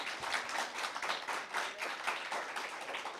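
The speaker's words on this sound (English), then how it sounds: "they deserve another round of applause" An audience at a school impromptu speaking competition finals claps in a faint, steady round of applause with no voices.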